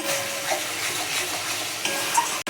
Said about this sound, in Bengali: পোস্ত বাটাটা আমি এখন দিয়ে দিলাম। একটু ভালো করে কষাবো।